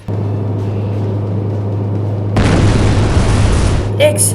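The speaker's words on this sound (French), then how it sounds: "L'explosion nous a propulsés." A steady hum is broken by a sudden loud boom from a plane explosion in a LEGO stop-motion film, roaring on for over a second, followed by brief high-pitched effects.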